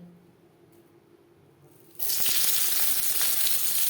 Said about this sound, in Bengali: জল বেশ ভালো করে ঝরিয়ে নেব